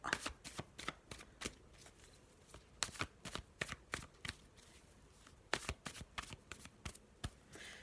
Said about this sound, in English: let me have a little shuffle of the black and white Faulkner deck